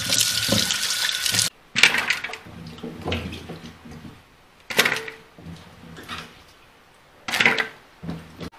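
Peeled, cut tapioca is rinsed under a running kitchen tap, with loud bursts of gushing, splashing water separated by short quiet pauses.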